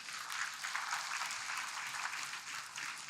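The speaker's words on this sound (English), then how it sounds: "Give him a round of applause." An audience at a CPAC conference in Brisbane applauds steadily for about three seconds, a dense, even clapping from a room full of people with no voices standing out.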